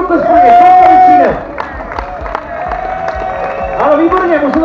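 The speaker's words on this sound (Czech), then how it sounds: "Pojďme nějaký potlesk pro něj" A crowd at a pie eating contest cheers and claps, a loud voice over a PA calling out above the babble at first, then mixed clapping and crowd noise continuing beneath.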